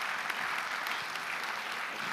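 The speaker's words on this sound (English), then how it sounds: "And please give a round of applause to our panel." An audience claps for the panel at the opening ceremony of the World Trade Centers Association's 53rd General Assembly, a dense, steady wash of many hands filling the hall throughout.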